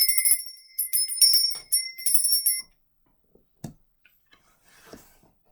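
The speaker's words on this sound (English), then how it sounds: "I'm going to be ringing the bell just to cleanse the space." A small hand bell is rung to cleanse a space, giving a run of bright, quick metallic rings for a few seconds before stopping, followed by faint clicks and handling noises in near silence.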